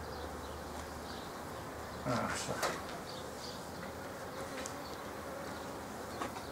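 Honey bees swarm close around a beekeeper in a continuous buzzing hum, with a few louder passes as individual bees fly near; a person briefly speaks.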